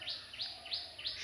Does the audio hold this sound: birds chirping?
yes